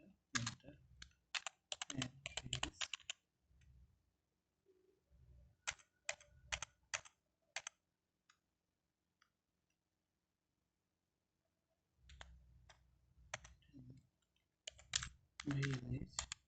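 Someone types on a computer keyboard in quick clustered bursts of crisp keystrokes, separated by pauses and a long quiet gap. Faint low speech can be heard at times.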